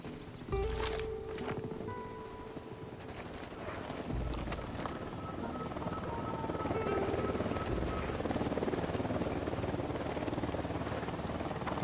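A helicopter in the video game Ghost Recon thrums steadily during a firefight, a low rotor drone that grows a little louder. Sharp gunshots and other game effects sound over it.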